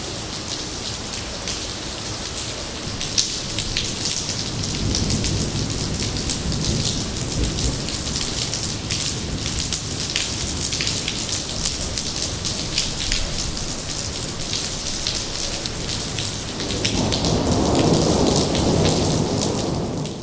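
Steady, dense rain pours down throughout, with deep rolling thunder swelling in twice, once early and again near the end.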